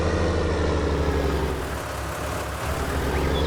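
A tractor engine in the Farming Simulator 19 video game idles with a steady, even drone that holds at constant loudness, with no talk over it.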